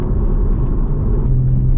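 Porsche 981 Cayman S engine driving in sport mode on a canyon road, a steady low rumble that stays loud and close throughout with no talking.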